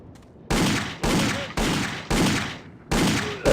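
Gunfire in the video game The Infernal Machine: five or six loud, separate shots, each with a sharp attack and a long fading tail, spaced about half a second apart.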